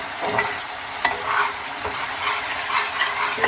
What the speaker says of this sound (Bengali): এবার এটাকে ভালো করে কষিয়ে নিতে হবে